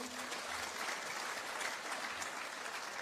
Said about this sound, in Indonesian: Tepuk tangan dulu buat UCB.